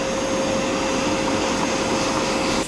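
A carpet cleaner sprays cleaning fluid and vacuums it back up, its loud, steady motor whine and suction rushing close by without a break, then cutting off abruptly right at the end.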